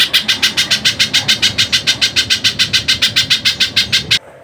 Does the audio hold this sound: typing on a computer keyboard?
no